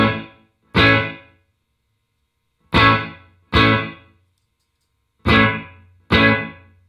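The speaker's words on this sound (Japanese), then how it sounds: "なんかこちらのルームのリバーブに関してはちょっとショートディレイ感を感じますね。" Electric guitar through a Yamaha THR amp's room reverb setting, six separate strummed chords in pairs with gaps of silence, each decaying quickly with a short, small-room tail.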